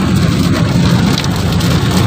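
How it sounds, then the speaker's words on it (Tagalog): Loud, dense rain drums steadily on a surface, a constant heavy downpour that fills the whole clip with no voices. "sobrang lakas ng ulan"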